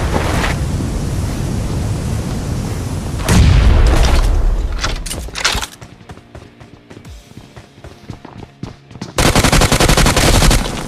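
Rapid automatic gunfire in PUBG crackles in loud, dense bursts, falls to a quieter stretch of scattered shots and clicks, then erupts again into sustained firing.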